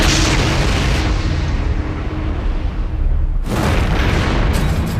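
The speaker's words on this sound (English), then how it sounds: "Despite the power of the explosion, only 4 people were injured" An explosion after a truck and train collision, a loud, broad roaring blast that rumbles on for several seconds, dips briefly, then surges again with renewed force.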